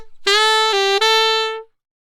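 Saxophone plays a short phrase of three notes, the first two brief and the last one held before it fades out, bright and close with no talking.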